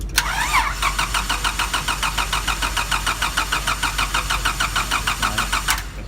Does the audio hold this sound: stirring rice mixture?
no